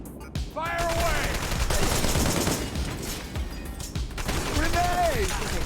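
Bursts of video game gunfire crackle through a loud battle mix, with shouted voices and whistling projectiles rising and falling over the clatter.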